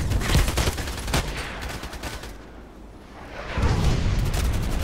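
Gunfire from the shooter game Contract Wars: rapid loud shots crackle in clusters, then fade to a quieter stretch before heavy firing and booms return near the end, with no talking.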